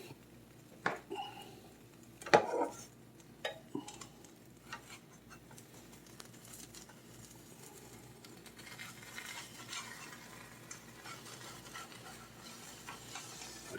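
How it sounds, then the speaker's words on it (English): A zucchini omelet slides and scrapes around a frying pan as a spatula knocks against it, a few clattering hits early on, then a soft steady sizzle that fades out. "Try to slide slide it all down to one side of the pan, because it makes it usually a little easier to flip."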